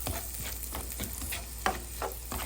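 Onion frying until golden for begun bahar, a soft, fairly faint sizzle broken by repeated stirring scrapes at an uneven rhythm, with no talking.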